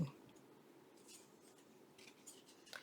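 Scissors trimming paper for a handmade journal, faint quiet snips and rustles scattered across the clip, close and soft with no speech.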